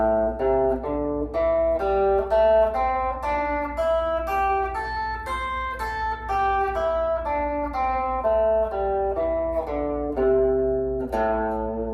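A clean electric guitar plays a steady sequence of single notes, a bluesy lick picked one note at a time, clear and alone.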